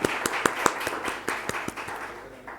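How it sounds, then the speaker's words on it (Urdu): An audience claps to welcome guests at a Bible study session: a modest group's applause with clear individual claps in an uneven rhythm, fading slightly toward the end. "سب تالیاں بجا کے انہیں اپنے درمیان خوش آمدید کہیں"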